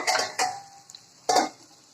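A lid set down over a cooking pot of kali baush fish curry with shapla water lily stems, giving two short metallic clatters close by, then a third clink after a pause, with no talk.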